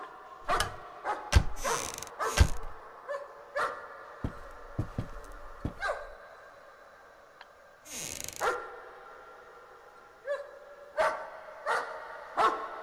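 A dog in the Layers of Fear video game barks in scattered, echoing bursts, loud and close, with quieter yips and mechanical clatter between the barks.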